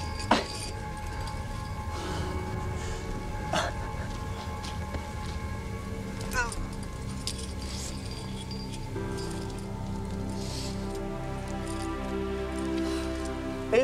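Rain falls on a granite rock face high on El Capitan, pattering steadily with scattered clinks and rustles. The sound is close and fairly quiet, with no talking.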